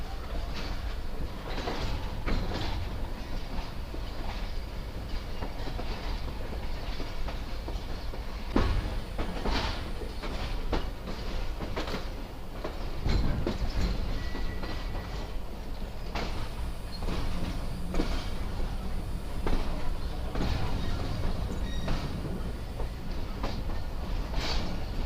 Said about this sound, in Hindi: ये प्लेटफॉर्म नंबर 2 पर लग रही है ट्रेन अब